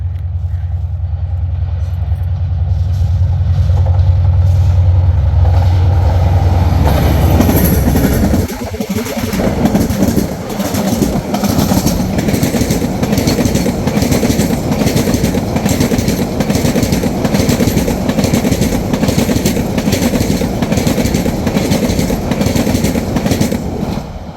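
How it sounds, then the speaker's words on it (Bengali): A train speeds past through dense fog at a rail line near Jinardi bazar in Narsingdi, a loud approaching rumble that bursts into rapid, rhythmic clickety-clack of wheels and wagons rolling by close for many seconds. "এই যে একদম সাই সাই গতিতে ছুটে গেল ট্রেন"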